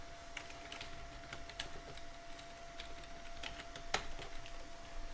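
Typing on a computer keyboard while working in a Python interpreter: faint, quick key clicks in an irregular run over a low room hum, with one sharper keystroke near the end.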